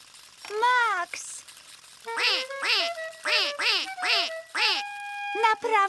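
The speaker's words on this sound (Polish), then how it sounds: "Kaczki nie śpiewają, Max, tylko kwaczą." Cartoon-style duck quacks ring out in a rapid series of bright, nasal calls, several in a row with short gaps, mixed with a voice and light tinkling.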